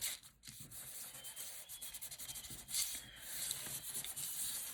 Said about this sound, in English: Just rub these edges.